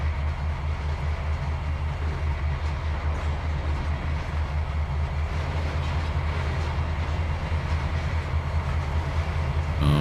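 Train cars rumble steadily along the track in the Trainz 2022 simulator, a continuous low rolling drone with faint rhythmic clatter throughout, no talking over it.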